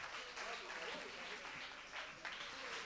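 A crowd at a school contest semifinal broadcast applauds in a continuous, fairly loud wash of many hands, with faint speech in the background.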